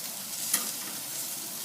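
BBQ baby back ribs hot off the barbecue sizzle with a steady, close hiss and faint crackle, uninterrupted by talk.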